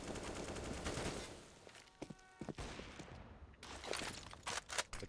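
Counter-Strike gunfire on the Train map: bursts of automatic fire and single cracks, loud and close, broken by short gaps and some thuds, with the shots clustering again toward the end.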